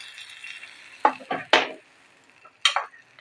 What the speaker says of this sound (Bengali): চামচ দিয়ে নেড়ে দেব